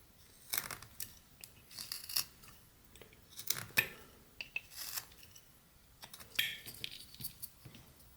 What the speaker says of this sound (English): We're going to put make a stop cut in there and cut up to that.